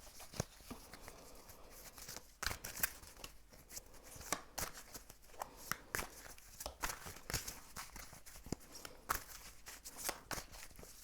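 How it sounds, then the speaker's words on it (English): Tarot cards are shuffled close to the microphone in quick, irregular bursts of papery riffling and tapping, soft overall and with no one speaking. "I'm going to shuffle a little bit more"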